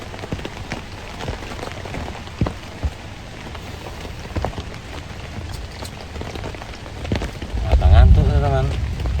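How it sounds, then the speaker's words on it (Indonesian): Heavy, steady rain drums on a tent or shelter during a camping trip in a thunderstorm, a loud continuous patter with scattered sharper drops, and a low rumble rising near the end. "hujan nggak reda-reda"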